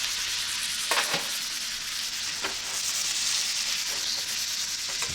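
A New York strip steak sizzles and spatters in a pan while being basted with thyme, garlic and butter, a steady hissing fry broken by a few sharp spoon scrapes and pops, with no speech.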